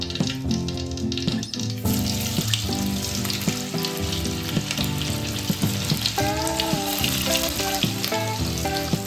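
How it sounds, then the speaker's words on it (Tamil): Masala-coated paneer fries in a little oil in a kadai, giving a steady, loud sizzle throughout with occasional stirring scrapes and clinks mixed in. "மசாலாவில் மிக்ஸ் பண்ண பன்னீரை இப்போ இதில் போட்டு ஃப்ரை பண்ணிக்கலாம்."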